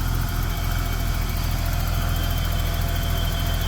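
A BMW 730i engine idles at a steady, even drone, close up with a low rumble and no speech over it.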